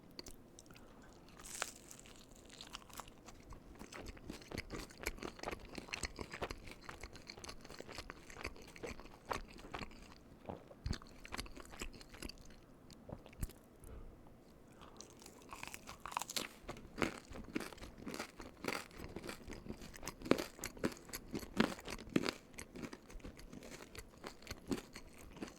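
Someone bites into a Five Cheese Tombstone pizza and chews it close up. Crisp crust crunches in a steady run of chewing and biting sounds, quiet and close, with no talking.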